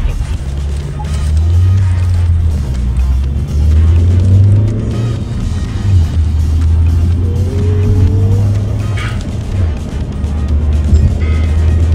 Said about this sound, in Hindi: अब रात में हम गाड़ी को गेड़ी मारने जा रहे हैं ओजू के साथ।